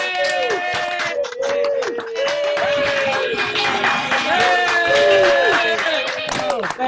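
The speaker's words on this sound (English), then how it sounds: "please signify your approval by clapping" At a college commencement, the audience claps to approve degree candidates: continuous clapping throughout, mixed with tonal, voice-like sounds, steady and fairly loud for nearly seven seconds.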